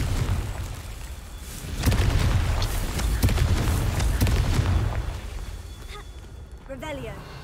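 Confringo blasting spell explosions in Hogwarts Legacy, a heavy rumbling boom that swells and rolls on for several seconds before fading, with a voice speaking over it.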